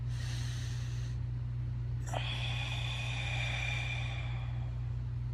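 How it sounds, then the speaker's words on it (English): A single deep breath drawn in through the nose sounds close and soft, a brief sharp sniff followed by a longer airy inhale over a low steady background hum. "breathe in from the nose"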